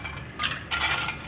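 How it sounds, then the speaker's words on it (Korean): Large live clams tumbling into a pot for clam knife-cut noodle soup, two quick close clattering rattles of shells against metal. "자, 이렇게 불을 먼저 켜고 그 다음에 바지락 넣어주세요."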